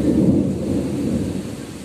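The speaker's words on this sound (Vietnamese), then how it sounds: "từ xa bên phía quận 2 là mưa nó đang đổ xuống rồi" Heavy rain pouring down over a district of Ho Chi Minh City on a stormy afternoon, a steady broadband roar with distant thunder rumbling low, loud and continuous throughout with no talking.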